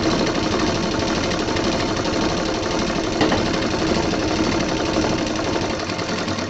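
A sewing machine stitches a zip onto a handmade handbag, running in a steady, continuous, fast mechanical whir at close range, with no talking.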